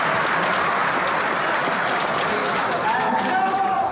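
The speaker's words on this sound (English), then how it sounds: "the crowd just went wild" A crowd at a boxing match roars and claps in a sustained, dense wall of noise after a fighter's win, close and loud, with shouting voices blended through it.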